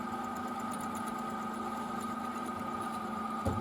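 Drill press boring hinge axles for tank hatches held in a jig, a steady mechanical hum with tonal whine running throughout, close and even, with a brief knock near the end and no talking.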